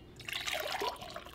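Water pours into a Stanley mug in a short, quiet trickle that rises in pitch as the vessel fills, heard up close with no talking.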